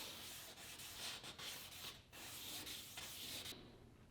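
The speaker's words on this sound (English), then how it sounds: "Now this one is done being sanded" A plastic headlight lens is sanded by hand for restoration, giving a continuous close rasping scrub in back-and-forth strokes with a few brief breaks, stopping abruptly near the end.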